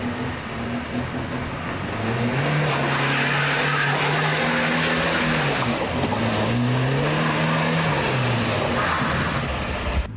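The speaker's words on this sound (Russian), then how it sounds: "Видите, как она покрутила пятаки, но в итоге все-таки заглохла." A car spinning donuts in an open lot, its engine revving up and down in repeated swells over a steady noisy roar, heard from a moderate distance for about ten seconds without voices.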